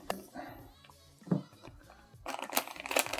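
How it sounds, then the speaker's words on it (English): Crinkly plastic wrapping rustles and crunches in bursts, with snipping and handling noises close up, getting busier toward the end. "Let's just open this guy up. I'm going to use these surgical scissors."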